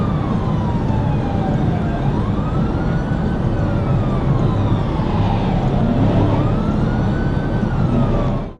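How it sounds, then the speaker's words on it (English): A police patrol car's wailing siren rises and falls steadily over a constant roar of heavy highway traffic, loud and close throughout. "Despite Trooper Duncan turning on her emergency lights and sirens, Zapit Alvarado was in no mood to stop."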